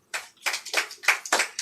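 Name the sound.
audience applause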